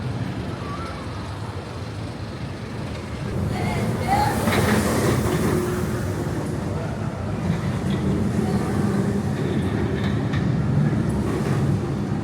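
The Hollywood Rip Ride Rocket roller coaster train at Universal Orlando rumbles past, a broad roar that swells a few seconds in and holds steady amid outdoor theme-park crowd noise.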